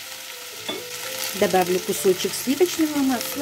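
Salted mushrooms frying in a pan with a piece of butter added, giving a steady sizzle with stirring scrapes and clatters, while a person talks over the cooking.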